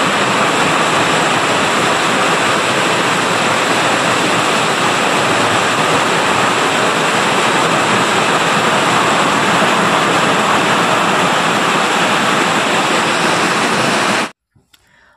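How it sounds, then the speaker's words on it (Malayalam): Heavy rain pours in a dense, loud, unbroken roar for about fourteen seconds, then cuts off abruptly into near silence. "അപ്പോഴത്തേന് ഭയങ്കര മഴയാണ് കൈസ് ഇവിടെ കേട്ടോ"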